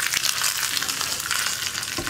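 Curry leaves crackle and sizzle in hot oil as a tempering for radish dal curry, a dense, steady frying hiss with small pops, close and fairly quiet.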